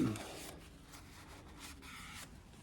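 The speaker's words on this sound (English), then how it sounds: "I like to give that a little wiper on the oil filter housing as well." A cloth wipes the sawdust-covered oil filter housing of a sawmill engine, giving several soft, close rubbing strokes in quick succession.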